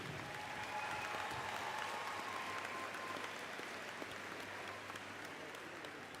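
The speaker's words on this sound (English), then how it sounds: "please give a round of applause for all of our senior cheerleaders" A basketball gym crowd claps for the senior cheerleaders, a faint, distant and steady patter of applause that continues evenly throughout with no voices standing out.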